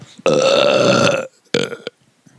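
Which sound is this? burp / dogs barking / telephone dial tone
burp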